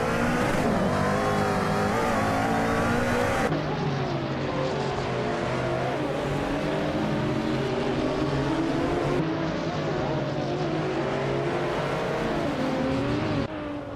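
A 2015 Cadillac GT3 race car laps in a racing video game, its engine a continuous loud drone that rises and falls through gear changes and revs, with other cars faintly mixed in.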